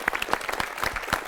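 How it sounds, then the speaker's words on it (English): Brief burst of audience applause for young bravery award winners at a ceremony, scattered claps close together for about a second. "I think a big round of applause for all the awardees."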